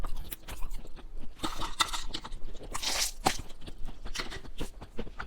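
Someone bites into and chews a crunchy, plain cookie close to the mic, with repeated sharp crunches and wet chewing over a soft background rustle.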